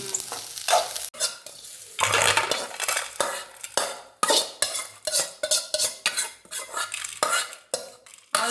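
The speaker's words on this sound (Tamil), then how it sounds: "இது எல்லாத்தையும் நல்லா வதக்கிக்கணும்" Garlic, onion and tomato sautéing in a pan, with a spoon repeatedly scraping and stirring against the metal in quick, uneven strokes over a steady close sizzle.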